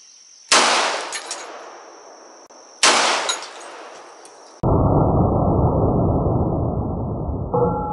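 Two loud, close gunshots from a 10mm Hi-Point pistol fired outdoors, a couple of seconds apart, each ringing out with a sharp crack and decay, followed by a steady rushing noise.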